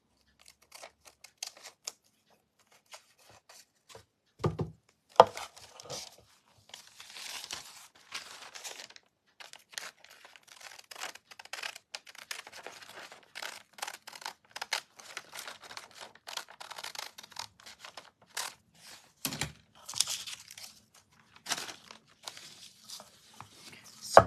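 Scissors trim decoupage paper for a vintage Easter bunny wooden tag, with a quiet series of close snips and crinkles, some brief louder cuts, and no talking.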